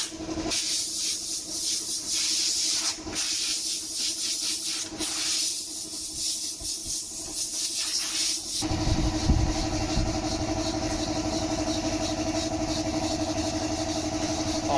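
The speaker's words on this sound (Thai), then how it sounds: "แต่ของผมเนี่ยแค่ฉีด ด้วยเครื่องฉีดน้ำเนี่ยถือว่าสะอาดแล้วนะครับ" A pressure washer sprays water on a Toyota Camry Hybrid, making a loud, continuous hissing rush over a motor drone, with the spray's tone shifting partway through.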